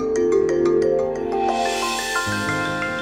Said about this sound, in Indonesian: Dokter Lisa yang telepon.